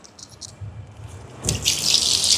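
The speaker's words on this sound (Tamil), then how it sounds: "பாத்திரத்தை வச்சுட்டு தண்ணி எடுப்பேன்" Water starts gushing from a tap after a few faint clinks, flowing steadily and loudly close by.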